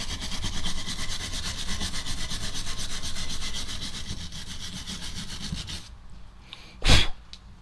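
A wire brush scrubs hard and steadily across a brake caliper bracket on a Honda Pilot during a front brake job. The loud scraping lasts about six seconds, then stops, and a single metallic clunk follows.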